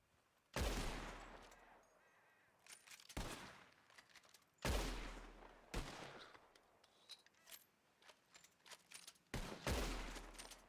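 Rifle shots fired at birds in the video game Red Dead Redemption 2, sharp loud cracks spaced a few seconds apart, some in quick pairs, each trailing off into a short echoing tail.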